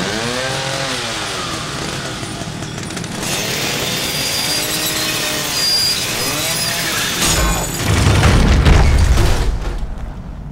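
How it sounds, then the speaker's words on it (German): Chainsaw in the horror video game The Evil Within, a loud close revving drone with rising and falling pitch sweeps, swelling into a heavier roar near the end. "Kettensäge benutzen."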